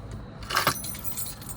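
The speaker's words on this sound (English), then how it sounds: "And hand me the keys." Car keys jangle briefly as they are handed over during a roadside traffic stop, a quick metallic clink over steady low background noise.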